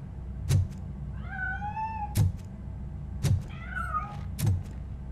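A cat in the video game Robocop Rogue City meows twice with rising, drawn-out cries, between them regular heavy thudding footsteps that repeat about once a second, close and clear with no talk.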